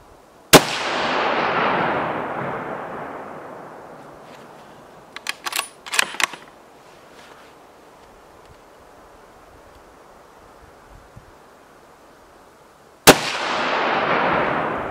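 Two loud hunting rifle shots fired while sighting in, each a sharp crack followed by a long rolling echo that fades over several seconds, with faint clicks and handling sounds between them.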